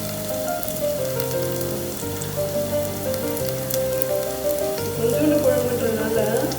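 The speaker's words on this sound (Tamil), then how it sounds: "Time to add mean." Fish pieces go into a hot pan for a Tamil fish curry, setting off a loud, steady, close sizzle and crackle that holds throughout, with soft background music underneath.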